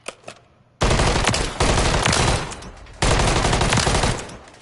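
Automatic weapon fire in Modern Warfare 3, played on PS5: three loud sustained bursts of rapid shots separated by short breaks, close and dominant.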